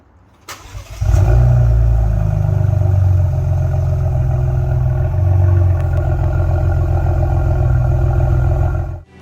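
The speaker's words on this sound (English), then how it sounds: "the Flowmaster Outlaw Axleback Dual Exhaust. My favorite mod, hands down. I love the sound, even if it does drone a bit sometimes." A Ford Bronco fitted with a Flowmaster Outlaw axleback dual exhaust starts up and revs loudly close by, settling into a deep, steady rumble with swells of throttle until it cuts off near the end.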